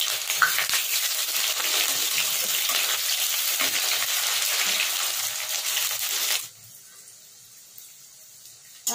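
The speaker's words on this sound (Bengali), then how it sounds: "দিয়ে দিচ্ছি কুচিয়ে রাখা পেঁয়াজটা, আমি এখানে 2 পেঁয়াজ নিয়েছি" Medium-sized chopped onions frying in a pan for mutton bhuna: a loud, even hiss and sizzle for several seconds that abruptly drops to a faint low murmur near the end.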